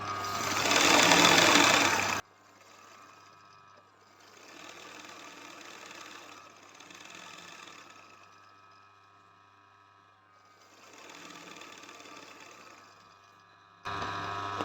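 An embroidery sewing machine runs a zig-zag stitch in bursts, a steady whirring clatter close by, loud at the start and end with softer runs in between and brief pauses.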